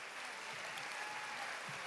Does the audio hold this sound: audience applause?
yes